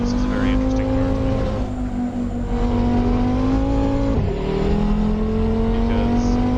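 An Audi RS3 sedan, a compact all-wheel-drive car of about 400 horsepower, pulls hard around the Fuji circuit, its engine note droning and climbing steadily in pitch with a brief dip at a shift, loud and continuous beneath someone talking.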